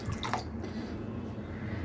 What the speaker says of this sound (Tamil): அதுக்கப்புறமா இதுக்கு தேவையான தண்ணி கொஞ்சம்